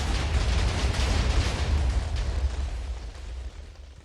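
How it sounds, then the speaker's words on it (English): TNT blows up in the video game Nova Arcana, a loud rumbling blast with heavy low-end that decays slowly over several seconds. "Yeah, Kaboom. that's a big explosion."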